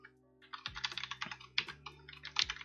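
Code is typed on a computer keyboard in quick bursts of crisp, close clicks and taps, with short pauses between runs and no voices.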